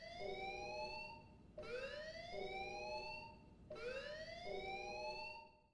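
An alarm siren in the video game Xenoblade Chronicles X wails loudly in repeating rising sweeps, each cycle about 1.5 seconds long, over a steady low background rumble with no talking.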